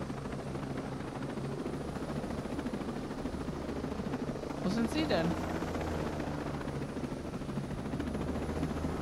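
Helicopter rotor drone in the video game Ghost Recon Breakpoint, a steady low whir running throughout under ongoing German conversation between players.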